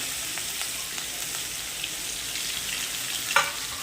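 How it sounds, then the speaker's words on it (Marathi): Onion, curry leaves and chopped tomato sauté in a pan for a dal tadka, giving a steady, moderately quiet sizzle with a brief sharper scrape near the end. "परतू द्यायचं 2 ते 3 मिनिटाचं छान"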